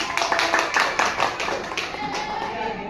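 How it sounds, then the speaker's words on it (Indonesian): A classroom group claps in a quick, fairly dense burst that gradually thins out over a few seconds, heard fairly close with faint voices mixed in. "Beri tepuk tangan Bapak."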